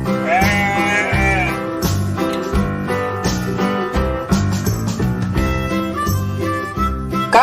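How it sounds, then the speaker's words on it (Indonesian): A goat bleats several times against a steady backing of children's music, the calls mid-loud and close, standing out over a cheerful melody with a regular beat. "kambing,"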